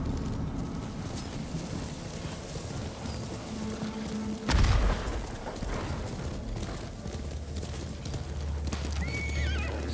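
Horse hooves clip-clop at a gallop while a horse neighs in Ghost of Tsushima, with a sudden loud boom midway and other game effects around it.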